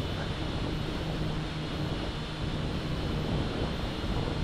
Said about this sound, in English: Wow, that wind's really picking up now